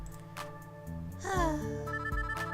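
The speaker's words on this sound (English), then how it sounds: "My phone rings the moment I sit down to do homework." A phone ringtone in a story video game plays a melodic electronic jingle, close and steady, with a rising sweep partway through and no talking.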